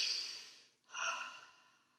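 A person demonstrates deep breathing for relaxation, drawing in a long audible breath and then letting it out in a single soft, close sigh-like exhale, with no talking.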